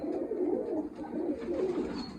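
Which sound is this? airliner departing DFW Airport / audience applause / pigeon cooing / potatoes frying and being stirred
pigeon cooing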